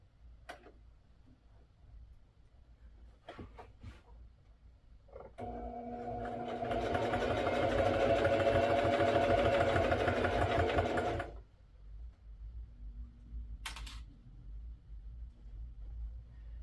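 Sewing machine stitching fabric for a homemade prom dress, a steady fast mechanical whir running about six seconds at close range, bracketed by quiet clicks and handling sounds.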